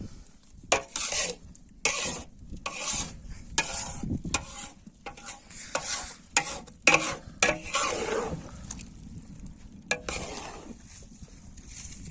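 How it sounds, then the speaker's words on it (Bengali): Khichuri cooks in a large pot over an outdoor village fire, a ladle scraping and knocking against the metal in irregular bursts over a low background hiss, loud and close. "আজ আমাদের এখানে খিচুড়ি রান্না হচ্ছে"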